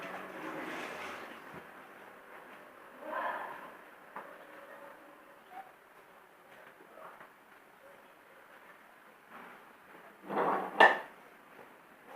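Washed spoons and kitchen cutlery being wiped dry, with soft rubbing and light scattered clinks of metal on dishes, a louder clatter near the end.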